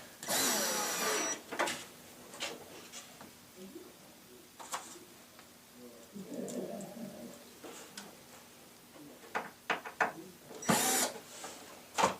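Screws being snugged down on a lazy susan base cabinet with a power driver, a few short whirring bursts separated by quiet handling noises, with some talk in between.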